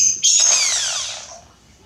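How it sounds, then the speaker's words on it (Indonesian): A power drill drilling wood gives one brief high whine that slides downward in pitch as the motor spins down, fading to quiet. "Hati-hati ya dalam menggunakan bor ini karena ini cukup berbahaya."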